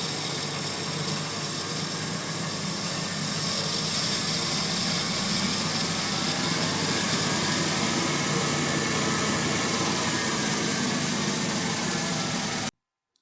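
A CNC lathe spindle runs with a continuous, dense whirring hum. Its tone shifts slightly as the RPM rises, and the machine keeps going steadily until it cuts off abruptly near the end. No speech.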